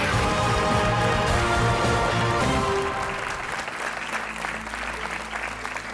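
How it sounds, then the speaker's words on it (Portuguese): Studio audience on a television quiz show applauds two contestants, steady full clapping layered over upbeat show music, the applause easing slightly toward the end. "Um aplauso para o Adelino e para o Bernardo."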